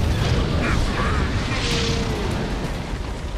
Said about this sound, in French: Lancement des obus de canon AM.